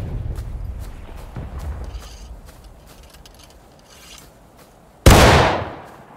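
A single sharp, loud musket shot rings out in a War of Rights video game skirmish training session, following several seconds of quiet rustling and faint background noise, its echo trailing off over about a second.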